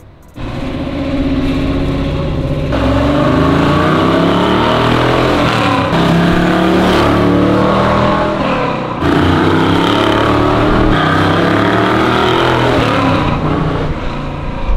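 A 1970 AAR Hemi Cuda engine rumbles deep and loud while driving, rising and falling through gear changes with a throaty, continuous growl.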